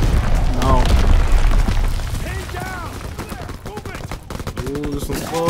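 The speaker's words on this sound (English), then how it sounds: "Is that our artillery strike?" Artillery strike in a Call of Duty WW2 online match, a barrage of deep rumbling booms and sharp cracking blasts rolling throughout, with voices talking over the explosions.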